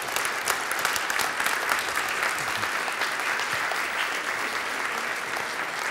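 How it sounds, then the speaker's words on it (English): Steady, full applause from a conference audience welcoming a guest onto the stage, a continuous wash of many hands clapping at even loudness throughout. "Big applause, please, for our guest."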